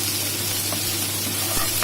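Ingredients for vermicelli upma roasting in a hot pan give a steady, even sizzle with a low hum beneath, continuous and fairly close, with no voices.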